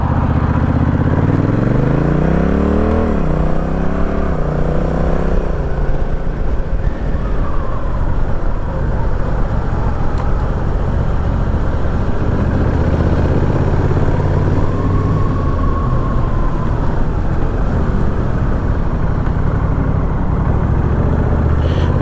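A Honda Rebel 1100 DCT motorcycle riding in traffic, its engine droning steadily up close with early gear-shift rises in pitch, under constant road and wind noise.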